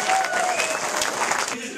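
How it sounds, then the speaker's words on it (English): Brief burst of audience clapping during a stand-up comedy show, dense and moderately loud before fading at the end, with no talk over it. "how about a big round of applause for Megan McTusty"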